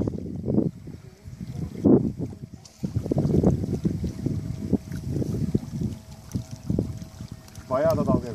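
A carp-baiting motorboat runs across choppy water, its motor droning under repeated uneven splashes as waves slap the hull and water sprays off the side, close and fairly loud.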